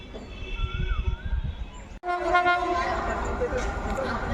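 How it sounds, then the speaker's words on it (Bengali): The Hazarduari Express rumbles into Murshidabad railway station close by, then a loud, sustained horn blares over the heavy rolling noise of the carriages. "স্টেশনে ঢুকছে হাজারদুয়ারি এক্সপ্রেস"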